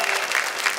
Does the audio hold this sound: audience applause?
yes